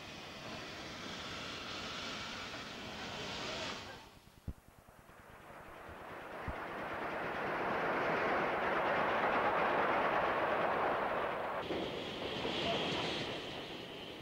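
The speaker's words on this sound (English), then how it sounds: "Here, an LNER steam commuter train arrives." An LNER steam commuter train arriving, a broad rumbling roar that dips briefly, then swells steadily and holds before easing, with a couple of sharp knocks partway through.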